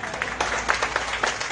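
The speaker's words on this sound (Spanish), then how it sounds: "ingeniero Álvaro Virne, para quien pido un fuerte aplauso" Brief applause from an audience at a project inauguration ceremony, a moderately loud patter of clapping with distinct individual claps standing out over about a second and a half.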